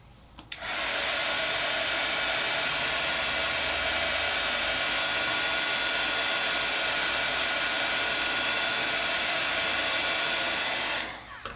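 A heat tool melting metallic gold embossing powder through a layering stencil: a loud, steady fan-driven blowing whoosh that starts abruptly, holds evenly for about eleven seconds, then cuts off.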